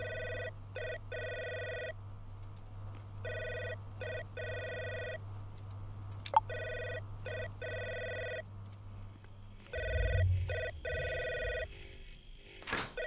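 Telephone ringing inside the video game Three Minutes To Eight, an electronic bell sounding in repeated double bursts with short pauses, moderately loud over a low steady hum, followed by a few soft clunks and shuffling near the end.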